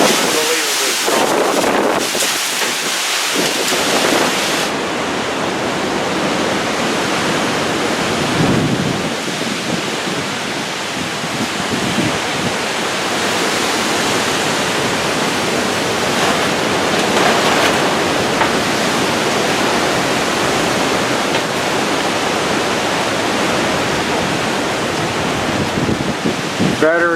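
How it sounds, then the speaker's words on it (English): Strong hurricane wind from Hurricane Irma in Florida roars steadily and loudly throughout, with constant broadband rushing, gusting surges and buffeting against the microphone, with no speech. "This wind is unbelievably strong."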